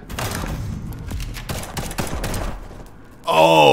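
Video game gunshots ring out as a run of sharp, punchy reports spaced irregularly over a few seconds, close and loud, ending in a tonal game sound.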